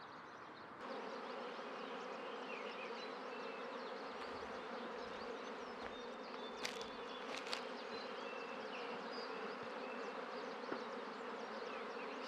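Newly hatched honeybees making orientation flights in the Stump Garden Bee Yard, a dense continuous drone of many wings at moderate distance, with a few faint ticks over the steady hum.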